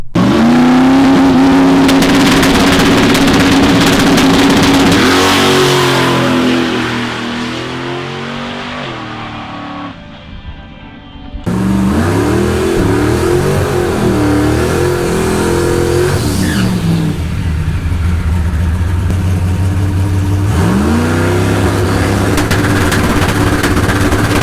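A boosted car engine revs hard through a drag strip pass, loud and close, pulling through rising gear sweeps with a brief dip at a shift midway before climbing again, with no voices.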